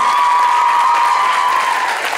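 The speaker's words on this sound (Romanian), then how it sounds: "haideți să o aplaudăm" Loud, steady applause from a concert audience at a Christmas show in a hall at Ateneul Tătărași in Iași, dense clapping filling the room and fading slightly at the end.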